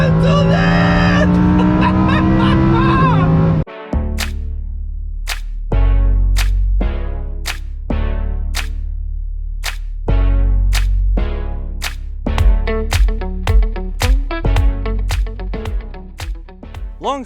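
A 2021 Lamborghini Huracan Evo RWD engine revs hard in a series of sharp, loud blips that rise and cut off repeatedly, following a sustained high-pitched wail at the start.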